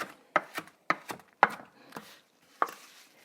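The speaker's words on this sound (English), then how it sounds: "So I'm just going to chop that up roughly" A knife chops roughly through fresh vegetables on a cutting board, giving about six sharp, close thuds spaced irregularly, each with a brief crisp crunch and quiet gaps between.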